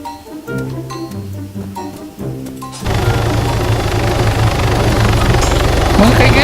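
Helicopter in the video game Arma 3, its rotor drone starting abruptly partway through and then running loud and steady, after a stretch of music-like tones at the start.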